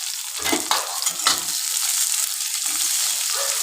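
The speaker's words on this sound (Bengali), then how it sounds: "একটু জিরে ফোড়ন দিলাম, সাথে এই একটু পেঁয়াজ কুচি দিয়ে দেবো" Cumin seeds and chopped onion fry in hot oil in a pan for a fish curry, giving a steady loud hiss and crackle up close, with a few stirring scrapes near the start.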